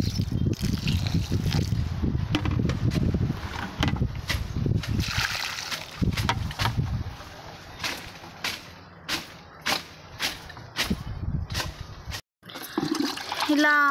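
Water is poured onto soil around a newly planted tree, splashing and gurgling steadily at first. Then come scattered drips and taps, with faint voices nearby.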